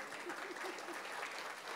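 Brief, faint applause from an audience at a humour club comedy speech in Triplicane, a dense patter of hands lasting under two seconds.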